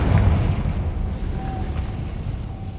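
A Confringo explosion spell going off in the video game Hogwarts Legacy: a low, rumbling boom that rolls and fades over a few seconds, dense and close with a muffled, heavy body.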